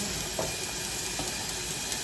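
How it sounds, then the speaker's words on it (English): Smoked meat and smoked neck bones boiling in a pot on a stove, a steady bubbling, hissing wash with faint occasional pops, close and continuous. "So I'm boiling my smoked meat and smoked neck bone."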